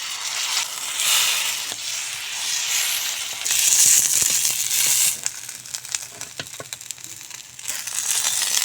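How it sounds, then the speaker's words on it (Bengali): Cabbage rolls made with egg fry in a pan with a steady, loud hiss and crackle. Occasional scrapes and pops come through as they are turned, and no one speaks. "সবগুলি বাঁধাকপি এভাবে ভেজে নেব"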